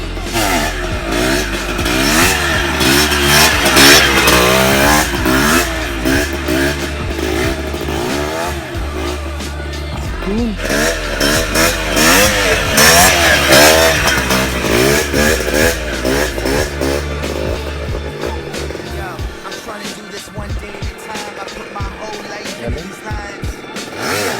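A motorcycle engine revs and surges repeatedly during a slow wheelie, loud and close, rising and falling in pitch with throttle changes over a long stretch before easing near the end.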